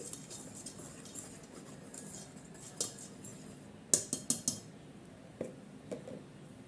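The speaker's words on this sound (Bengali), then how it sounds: "এখন আমি শুকনো উপকরণগুলো একটু মিক্স করে নিচ্ছি" Dry ingredients for carrot buns, flour and a pinch of salt, stirred in a bowl with a utensil: soft scraping throughout, then a few sharp clinks against the rim in a quick cluster, close and fairly quiet.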